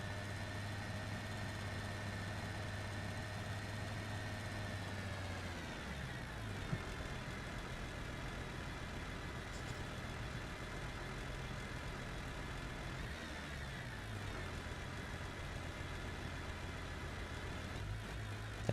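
Car engine idling in the BeamNG.drive driving game, a steady low hum that runs on throughout, with its pitch dropping at two points as if revving down, and no talking.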